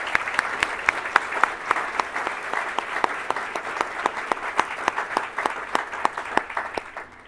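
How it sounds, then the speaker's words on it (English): A community breakfast audience claps for award recipients, a dense, steady round of applause with crisp individual claps, moderately loud and continuous throughout. "Can we applaud them again, by the way"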